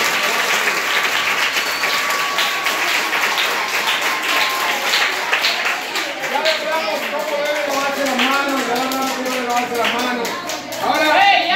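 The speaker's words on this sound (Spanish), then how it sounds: "Un aplauso para ustedes que se portan bien." Schoolchildren clapping together in a classroom in Villa Altagracia, dense at first then breaking into looser claps as lively young voices chatter and call out over it.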